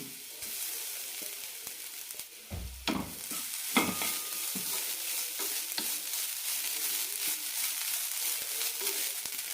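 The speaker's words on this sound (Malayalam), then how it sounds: "ബാക്കിയുള്ള നെയ്യിലേക്ക് അരക്കപ്പ് തേങ്ങ കൂട്ടിയിട്ട് വറുത്തെടുക്കാം" Half a cup of grated coconut fries in leftover ghee in a pan, giving a dense, steady close-up sizzle with a few louder scrapes and knocks of the stirring spoon early on.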